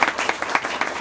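An audience at a school board meeting claps for student readers, a short burst of applause from a small group, close and even.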